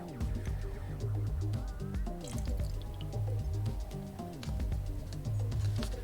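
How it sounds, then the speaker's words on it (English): Extra cooking liquid poured off into a cup, a steady trickling and dripping with small splashes, close and continuous for several seconds. "Just going to pour this off into a cup,"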